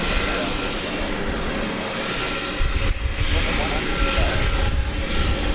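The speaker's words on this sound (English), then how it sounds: "We expect to see Cathay Pacific, an A350-1000, taking off for Hong Kong." Cathay Pacific Airbus A350-1000 taking off at Dallas Fort Worth at night for Hong Kong, a broad steady jet roar that grows slightly louder midway, with a voice talking over it.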